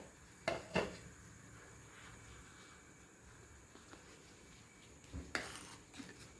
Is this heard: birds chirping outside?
no